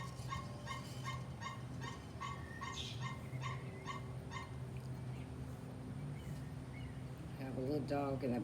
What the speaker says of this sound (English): Have a little dog in the background over there next door.